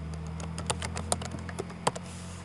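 Quick typing on a computer keyboard, a fast run of crisp, close key taps with a few louder strikes, alone in a quiet room.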